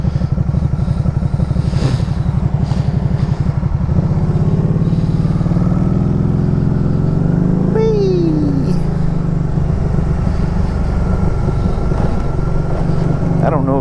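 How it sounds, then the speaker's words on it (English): A Can-Am Spyder ST-S fitted with an aftermarket exhaust runs loud and steady throughout, a deep continuous engine drone close by, with someone talking over it. "Got some aftermarket exhaust on there. She's probably gonna be real loud."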